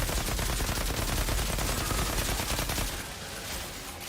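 An assault rifle with armor-piercing rounds fires in Outriders, a loud, continuous stream of rapid shots that tapers off near the end with no talking.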